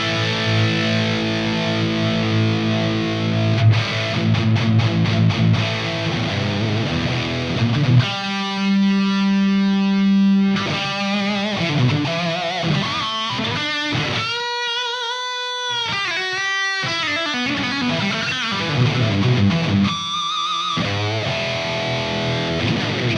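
An electric guitar plays through a Headfirst Jose/Cali distortion pedal, giving a thick, compressed tone. Sustained chords alternate with sharper riffs and ringing held notes, with no talking.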